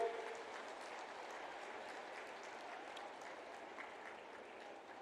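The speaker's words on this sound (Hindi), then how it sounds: "ताली बजा के।" Audience applause at the inauguration of the new Chhattisgarh Vidhan Sabha assembly building in Nava Raipur, a steady wash of clapping that holds at an even, moderate level throughout, with no speech over it.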